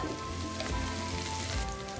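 Onion, garlic and ginger sauté in a pan as the base for a fish curry, giving a steady, even sizzle like light rain that holds for the full stretch with no talking over it.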